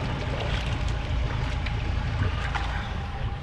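A boat engine idles on the water, a steady low rumble with a broadband wash of water and engine noise running continuously and fairly loud throughout.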